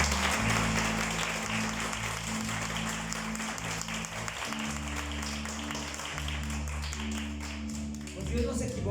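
A church congregation applauds steadily throughout a worship service, the clapping sustained over a low, continuous musical backing with sustained bass tones.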